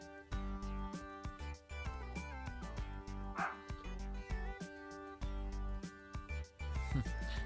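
An agitated dog keeps barking outside, a long run of loud close barks mixed with yips and whines, spaced irregularly with brief pauses and a faint voice near the end.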